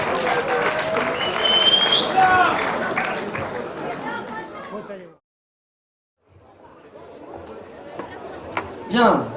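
Applause and crowd chatter at a boxing event as two boxers are escorted to the locker room, a busy mix of clapping and voices that stops abruptly, then returns more faintly with a sharp burst at the end.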